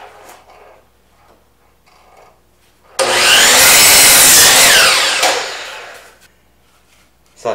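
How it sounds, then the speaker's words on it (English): A power sander grinds loudly and steadily for a couple of seconds against the edge of a wooden farmhouse table, rounding it off, preceded by faint shop noises and then dying away. "I'll take my sander and kind of round this off a little bit."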